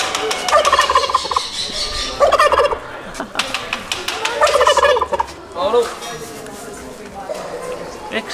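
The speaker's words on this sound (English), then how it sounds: "I've never come this close to a turkey before." A turkey at an agricultural show gobbles loudly and close by in several rattling bursts, separated by short pauses, with crowd noise and some nearby talk around it.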